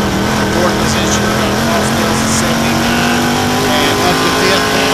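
Crate late model race cars roar around Virginia Motor Speedway in a loud, continuous engine drone with a sustained pitch, while a commentator talks over the noise.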